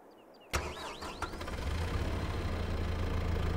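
A Kubota tractor engine in Farming Simulator 22 catches with a sudden thump and settles into a steady, low idling rumble, with a few brief chirps and clicks early on.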